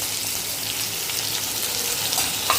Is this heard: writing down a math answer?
no